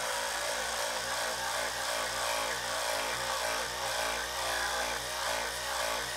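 A steady, buzzing whir from a David Union 400 linear stroke sander runs throughout with a gritty abrasive hiss, constant and close, as it sands down damaged paint.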